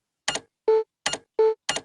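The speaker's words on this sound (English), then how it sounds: "If I want to switch modes in NVDA," NVDA screen reader toggling modes with the NVDA key and space, giving a sequence of short, crisp clicks alternating with brief pure beeps, five quick sounds in a regular rhythm, close and clean with no talk.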